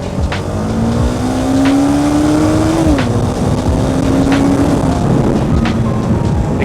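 A motorcycle accelerates on a highway, its engine note rising steadily and then dropping as it shifts gear. It runs under constant loud wind and road rumble, with a few sharp transient bumps.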